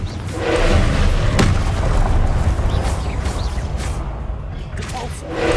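Confringo fire spell blast in Hogwarts Legacy PC game combat during an ancient magic trial, a deep booming explosion with a low rumbling roar and whooshing debris, loud and continuous.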